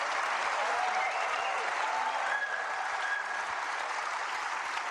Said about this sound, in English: Warmly appreciated by this large crowd at the Kai Tak Arena.